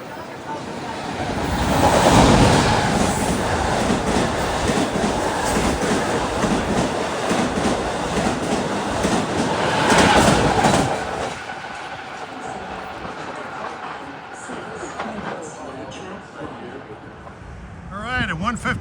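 LIRR Z train 7950 rolls past the Main Street crossing in South Farmingdale on the Central Branch, a loud steady rumble with clacking wheels that swells early, peaks again near the middle, then fades.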